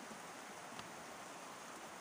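Rain falls steadily in a wind-driven downpour, a faint, even hiss of drops with no voices.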